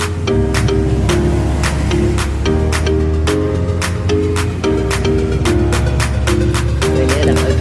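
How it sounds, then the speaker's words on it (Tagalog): Noisy roadside traffic flows steadily beside a home garage oil-change job, with a loud continuous rush of passing vehicles and repeated whooshing passes throughout, no talk over it. "medyo maingay, tabing kalsada kami."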